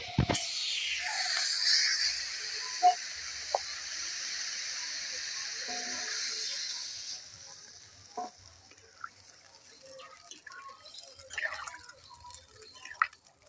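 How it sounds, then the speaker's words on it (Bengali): Water poured into a pan of sautéed vegetables for a broccoli and small-fish curry sets off a loud burst of hissing sizzle that fades over several seconds into quieter bubbling, with scattered clinks and soft stirring. "সবজিগুলো ভালো করে কষিয়ে নিয়েছি, এবার এতে জল দিয়ে দেবো।"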